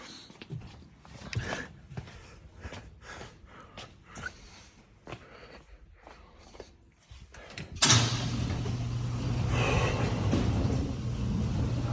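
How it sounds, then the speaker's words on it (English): Sliding doors of a workshop rolled open partway through, a sudden loud rush with a steady low hum continuing after, following a quieter stretch of scattered clatter and movement. "I might as well open all these doors."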